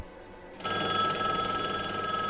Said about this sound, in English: the phone started ringing again